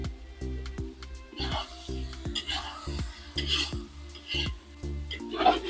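A utensil scrapes and knocks against a pan while ground pork is stirred for pancit Malabon, repeated rhythmic clinks under a faint sizzle, close by, with a voice speaking over it.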